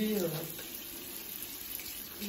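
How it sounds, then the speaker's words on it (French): A makeup brush rinsed and rubbed under a running tap, a steady splash of water into a sink lasting a couple of seconds. "Je vais venir rincer mon pinceau, le frotter."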